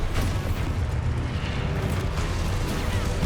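Explosive blast spell cast in the Hogwarts Legacy video game, a loud, dense roaring rumble that rolls on without pause for about three seconds.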